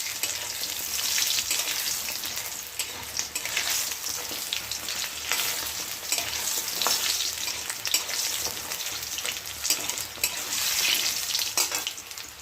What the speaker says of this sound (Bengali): বড়া হয়ে গেছে, টক ডাল করেছি, ফোড়ন দিয়ে দিলাম